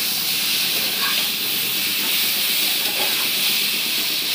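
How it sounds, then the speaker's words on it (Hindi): Jackfruit curry, Bihari-style kathal sabji, fries in oil with spices in a pan, giving a continuous close hiss and sizzle with no pause. "इसको कम से कम 5 मिनट भूनना है।"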